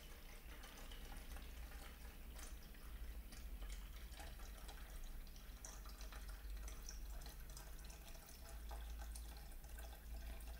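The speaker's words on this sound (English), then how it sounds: "Now as I go on filling water," Water running steadily from a tap into a container for a water level indicator circuit, a continuous close splashing stream with faint drips, no talk.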